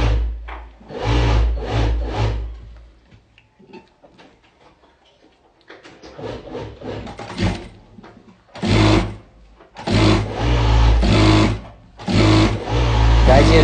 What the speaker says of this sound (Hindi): गाइज ये रेड एंड ब्लैक की स्टिचिंग हो रही है।